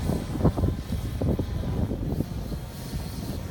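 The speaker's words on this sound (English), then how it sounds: "The wind's picked up a little bit." Wind gusts around a SwellPro SplashDrone 3 hovering at an outdoor test site, a low, uneven buffeting roar across the mic with no clear breaks.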